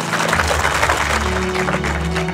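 An evening crowd claps for a couple gathered outside their newly finished house, steady dense applause filling the whole moment with a low hum running beneath.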